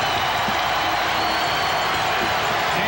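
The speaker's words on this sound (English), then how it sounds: "That gets the crowd going." Crowd noise from fans in a basketball arena during the 1992 NBA Finals between the Chicago Bulls and Portland Trail Blazers, a steady broadband roar of cheering that stays level and dense throughout without distinct claps.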